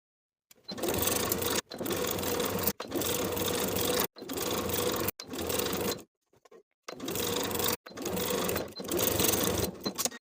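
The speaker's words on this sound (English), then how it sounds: "Sew that interfaced collar stand from seam to seam, from the finished edge of the placket to the opposite finished edge of the placket" Sewing machine stitching an interfaced blouse collar stand seam to seam across the placket with a 3/8 inch seam allowance; loud close motor whir in several sustained bursts separated by short pauses.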